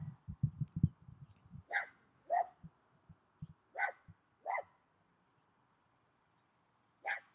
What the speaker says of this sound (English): He's a faithful guard dog.